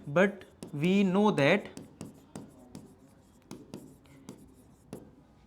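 Chalk or marker scratching across a board as a teacher writes out a maths proof in a Class 10 lesson, a run of short sharp strokes after a brief stretch of talking at the start.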